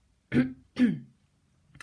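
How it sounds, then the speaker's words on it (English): A voice clears its throat in two quick, close rasps, followed by a short silence and a faint final breathy sound. "the sparrow said, clearing his throat"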